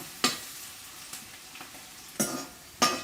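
Onion frying in a pan for a cashew masala dish, a constant quiet sizzle broken by four sharp scraping stirs spaced irregularly, close by.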